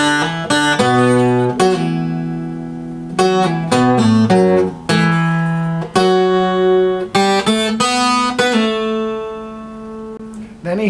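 An acoustic-style guitar lick, played close and clear with quick hammer-ons and pull-offs between fretted notes and ringing chord strums, with no talking.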